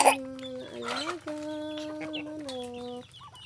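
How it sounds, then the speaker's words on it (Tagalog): Nearby chickens cluck and squawk in a run of sharp, tonal calls, several overlapping, with a quiet pause near the end, during feeding. "manok."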